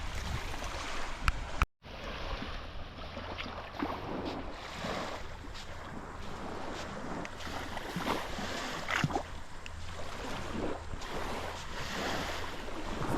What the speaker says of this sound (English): I find the waves really calming.